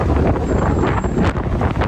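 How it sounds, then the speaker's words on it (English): Strong wind gusts after a typhoon in Okinawa, Japan, buffet the microphone in a continuous, heavy rumble, with no talking. "it's still pretty windy"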